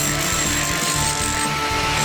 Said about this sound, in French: Piquage de la façade au marteau-piqueur